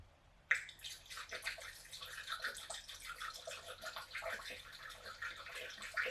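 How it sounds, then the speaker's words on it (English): Coolant poured into the radiator of a B-series Acura Integra, a close splashing, gurgling stream with small drips, beginning with a sharp knock and running steadily throughout. "let's go ahead and fill it up with coolant"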